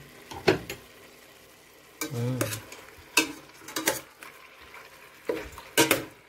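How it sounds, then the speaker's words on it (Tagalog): Chicken tinola being stirred as it cooks in its own juices, with repeated scraping and clattering stirs against the pot and a soft simmer between strokes. "Haluin lang natin paminsan-minsan hanggang sa maluto siya sa sarili niyang katas."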